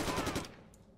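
A new gun fires in the PC shooter Jonathan Kane: The Protector, a rapid close burst of automatic gunfire that cuts off and fades within a second.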